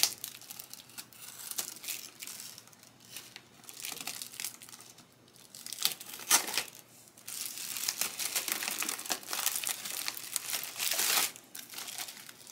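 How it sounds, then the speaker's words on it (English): A craft knife scores and crinkles through a stiff laminated plastic sheet in uneven strokes, close and fairly quiet, with bursts of crackling and scraping. "I'm just going to use my X-Acto knife to go around it."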